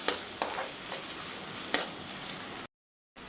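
Onion and ground garlic frying in a pan, a steady soft sizzle broken by a few stirring scrapes, quiet and close, cutting off briefly near the end.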